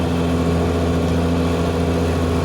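On a climb toward Antipolo, a heavily loaded vehicle's engine labors, giving a loud, steady, low drone with a rough hum that holds without pause, and no voices are heard.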